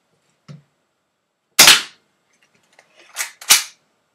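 Sharp, snappy shots from a small air gun, one then two more about two seconds later, each a crisp crack in near silence.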